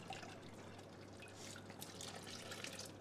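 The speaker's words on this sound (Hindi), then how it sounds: "मैं हल्का सा पानी डालूँगा वो वाला," Cooking water from boiled rajma is poured into a curd gravy for Himachali rajma madra, making a faint, steady trickle and splash with no voices.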